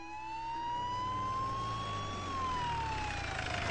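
A wailing police van siren rising and falling steadily, at a moderate distance, over a low rumble of traffic, with no voices.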